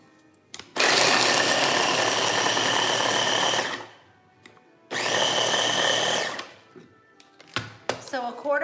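An electric grinder pulverises walnuts with brown sugar for cinnamon rolls, whirring loudly in two long bursts separated by a pause, followed by a few short knocks and clatter.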